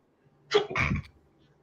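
A single short human sneeze, close and clear, a sharp burst that trails off quickly in an otherwise quiet room during a book club chat.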